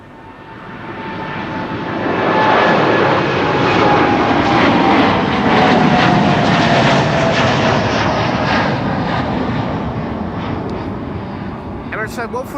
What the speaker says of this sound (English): Flight 147 is arrived from Dubai